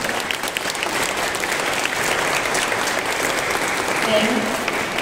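A crowd in Samsung Hall at the Asian Art Museum applauds steadily, a sustained wash of clapping that carries on throughout.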